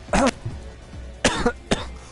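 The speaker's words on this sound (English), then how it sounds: "sorry for the cough" Three sharp coughs, the first a double burst, then two more after a pause, close and fairly loud with quiet gaps between.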